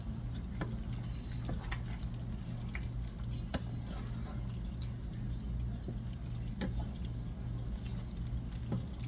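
Chicken broth poured into a pan of cooking pasta and chicken, a steady soft liquid hiss with scattered drips and small splashes, close and low.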